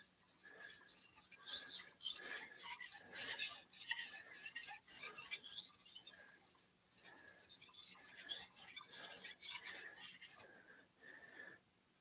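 Repeated rhythmic rasping strokes of a carbon steel kitchen knife being sharpened, close and fairly quiet, about twenty strokes in a steady back-and-forth pattern before stopping near the end.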